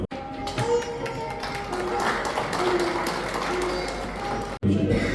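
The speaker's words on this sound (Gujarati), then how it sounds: "આ પ્રયત્નને આપણે બિરદાવીએ ખૂબ તાળીઓથી" Sustained applause from an audience at a launch of three books by a US-based woman author in Nadiad, a dense, steady wash of many hands clapping close by for about four and a half seconds, with faint voices underneath, then a brief pause and more.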